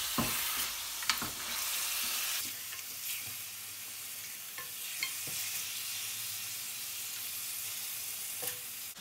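Just over 500 grams of lamb browning in a hot pan, a steady close sizzle and frying hiss throughout, broken by occasional scrapes and clinks of stirring.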